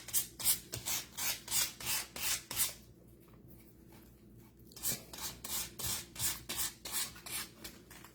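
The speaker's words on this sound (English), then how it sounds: "We'll just get them all sand down," A painted skeleton decoration is sanded by hand in close, rhythmic back-and-forth strokes, with a short pause of softer rubbing midway before the brisk strokes pick up again.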